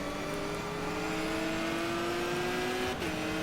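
A race car engine in the GTR 2 racing game holds a steady, droning note that climbs gradually while the car is driven hard through a corner, then breaks off briefly at a gear change near the end.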